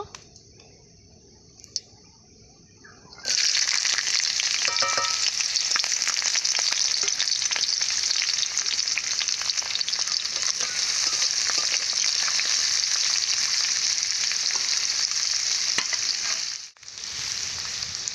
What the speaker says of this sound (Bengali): ডিম ভাজা কড়াতে উচ্ছেগুলো ভেজে নেব।